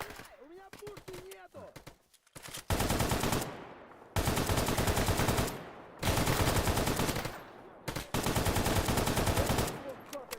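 Bursts of rapid automatic gunfire in Stalker GAMMA against mutants, three long loud sustained volleys separated by short pauses, after a quieter opening with a voice.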